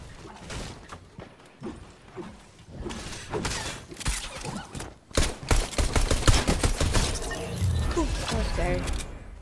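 Gunfire in Fortnite, scattered shots early then a dense burst of rapid, loud weapon fire in the second half, mixed with other game effects and a voice talking over it.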